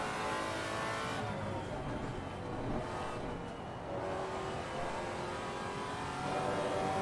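Maserati MC GT4 race car engine in Assetto Corsa Competizione, a loud, steady roar held throughout with rising and falling revs as it accelerates through corners, with a brief dip in intensity midway.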